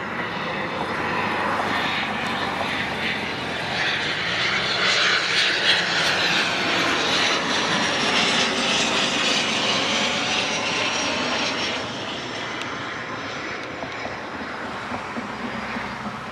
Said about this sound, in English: And here comes the Beechcraft.